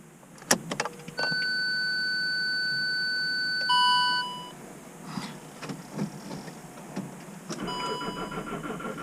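In winter, a car that could not be pre-warmed fails to start: dashboard warning chimes sound, then the starter cranks in short, labored bursts without the engine catching, close by inside the cabin.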